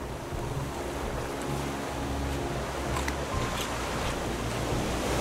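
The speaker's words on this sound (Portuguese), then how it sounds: "o mar tá ficando agitado" Rough sea in the Raft survival video game, a constant loud wash of surf and wind with a low rolling rumble, steady throughout and without talking.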